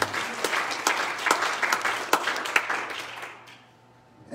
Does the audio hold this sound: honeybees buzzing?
no